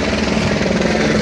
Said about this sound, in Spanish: Siempre ha habido helicópteros, ahí pueden ver.